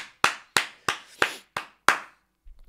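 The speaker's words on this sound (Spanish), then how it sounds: "¡Bravo por Pedro! ¡Un aplauso para Pedro!" Six sharp, evenly spaced hand claps ring out one after another, close and loud, with a brief low thump at the end.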